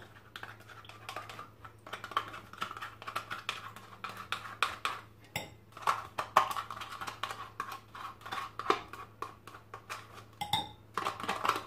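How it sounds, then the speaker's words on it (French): A whisk beating yogurt pancake batter in a bowl, quick irregular clinking taps against the sides that come in busy bursts, close and fairly quiet. "on mélange le tout juste au fouet"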